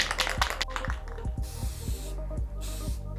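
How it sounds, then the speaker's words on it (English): Spray paint can hissing steadily as it coats a secondhand plastic chair in matte black, a close continuous spray broken by short pauses between passes. "I've completed the spray painting portion of this chair"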